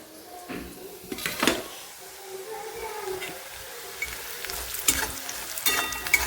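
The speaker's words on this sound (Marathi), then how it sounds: "कांदा लाल होसता परतून घेऊया." Onions frying in a pan for puri bhaji, a quiet steady sizzle broken by several sharp scraping stirs of a spatula, with no voices.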